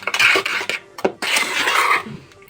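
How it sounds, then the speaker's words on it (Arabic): Spoon scraping and clinking against a bowl while stirring ground instant coffee into a homemade coffee mix, a few uneven bursts of clatter close up. "اهم حاجه بقى ان انا اميكس كويس قوي"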